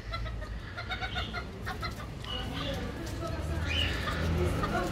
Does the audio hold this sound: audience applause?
no